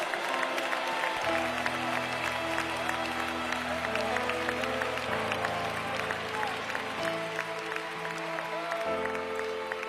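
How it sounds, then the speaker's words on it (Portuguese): Continuous crowd clapping in a church service, dense and steady throughout, with a sustained organ-like chord swelling and shifting underneath. "eu quero ouvir palmas misturado com glória a Deus"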